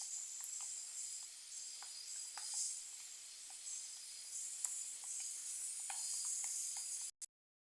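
Peanuts tempering in hot oil in a pan for poha give a steady, fairly faint hiss and sizzle with scattered small pops, running alone until it cuts off abruptly near the end.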